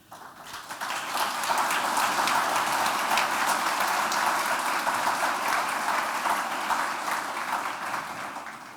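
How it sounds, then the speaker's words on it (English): Audience applause after a lecture at a pluralism event, a dense, steady wash of many hands that swells in within the first second and holds evenly, slightly distant, with no talking. "As I see you clap and hear you clap"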